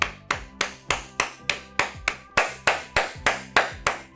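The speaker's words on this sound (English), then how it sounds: "Clap so you can feel vibration on your palms." A steady series of sharp hand claps, about three per second, loud and close with no voices.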